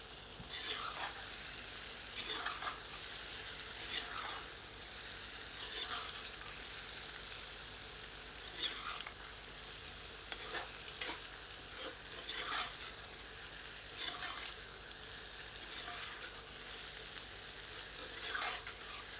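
Boiled taro root stirred with spices in a pan: a low, continuous frying sizzle broken by regular scraping strokes of a ladle, moderately faint and close, with no talking.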